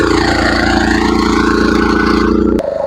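A Maijo 13 HP power weeder engine runs loud and close with a steady, throbbing mechanical drone, then cuts off abruptly near the end.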